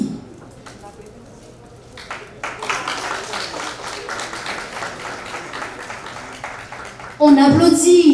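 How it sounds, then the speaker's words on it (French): An audience applauds at a community event, scattered clapping that thickens over several seconds before a voice breaks in loudly near the end. "On applaudit très fort."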